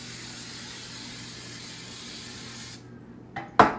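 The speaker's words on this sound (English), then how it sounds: "spray my loaf pan here." Baking spray hissing steadily from a can onto a loaf pan for a few seconds, close and fairly loud, then cutting off, followed by a short clatter.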